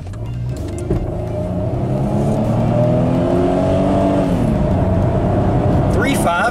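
A car accelerating hard from a standstill to sixty on a Mexican road, its engine note rising steadily and loud throughout, with a low droning rumble and a faint voice over the engine.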